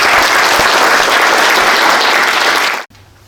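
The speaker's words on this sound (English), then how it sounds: "a huge round of applause for Jimmy as well" Sustained loud applause from a crowd for Jimmy of CCRC, dense and steady for nearly three seconds before cutting off abruptly into near silence.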